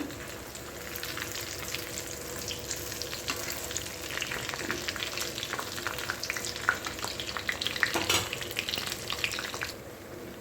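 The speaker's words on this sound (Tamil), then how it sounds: "இப்போ பார்த்தீங்கன்னா மிளகா பஜ்ஜி போட்டிருக்கேன்" Chilli bajji frying in oil, a dense, steady bubbling sizzle heard up close, with scattered sharper pops and a brief stir near the end.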